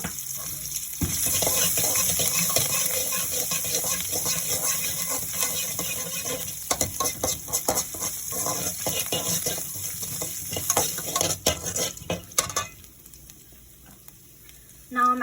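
Grated gram and ginger fry and sizzle in hot oil in a pan for upma, a steady close crackle with stirring clatter and scraping through most of the clip, quieting near the end.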